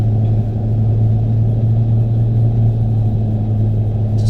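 A 1000-horsepower turbocharged Barra engine in a car holds a steady high rev, a loud, continuous low drone and rumble that barely changes over the few seconds.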